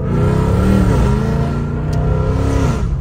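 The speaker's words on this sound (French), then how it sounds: "le bruit de la Mustang, il est quand même incroyable" A Ford Mustang engine revs hard with its exhaust valve open, a loud, throaty roar, the pitch rising and falling through a steady growl, close by.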